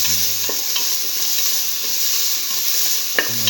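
Potato pieces stir-frying with salt in a pan, a steady hissing sizzle with a couple of sharp spatula scrapes against the pan.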